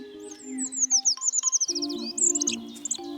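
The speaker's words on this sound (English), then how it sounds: "This feathered miniature is a Eurasian tree creeper." High, thin chirps and quick twittering notes from a Eurasian treecreeper, a tiny bird, repeat in a rapid run over a low steady hum, close and fairly clear, with no talk.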